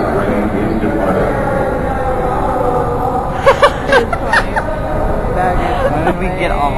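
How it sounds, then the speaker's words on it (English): A subway train rumbles steadily as it pulls away, with brief voices and laughter breaking through the noise partway through. "The train is departing."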